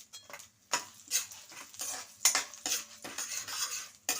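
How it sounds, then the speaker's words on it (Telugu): Four dried red chillies dropped into hot oil tempering with asafoetida, giving a close run of light crackling and metal utensil clinks and stirring scrapes against the pan. "ఒక 4 ఎండుమిరపకాయలు వేసుకుంటున్నానండి"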